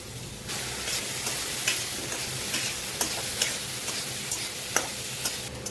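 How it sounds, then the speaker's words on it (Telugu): Potato pieces fry in oil in a pan with a steady, close sizzle, while a spatula stirs them now and then with soft scraping clicks throughout. "మధ్య మధ్యలో ఈ విధంగా కలుపుకుంటూ ఉండండి అప్పుడే కింద మాడిపోకుండా అడుగంటకుండా పొటాటోస్ బాగా ఫ్రై అవుతాయి"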